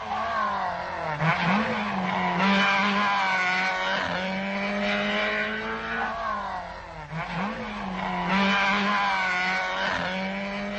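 Rally cars on the final stage of the 1978 Danube Rally roar past one after another, engines revving and sweeping through gear changes with tire squeal, loud and close over the whole stretch.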